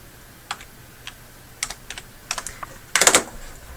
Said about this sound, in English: start to type in the course code right there